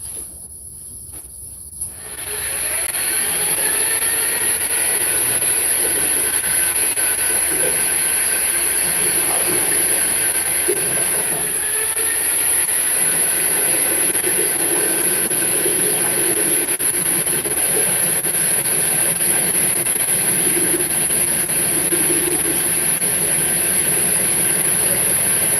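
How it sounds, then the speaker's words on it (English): A power drill fitted with a mixer attachment stirs paint. It starts after a quiet moment and then runs as one continuous, loud whirring hum with a faint high whine on top, steady to the end. "There's the power drill we're using,"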